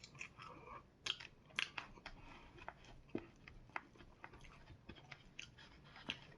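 Close-up, fairly quiet chewing and crunching of spicy shrimp fried chicken, with irregular crisp bites and soft mouth sounds, no talking.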